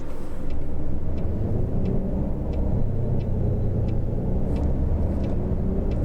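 A MAN Lions Coach, third generation, accelerates in Fernbus Coach Simulator, its engine giving a steady, loud, low rumble with faint periodic ticking above it and no talk.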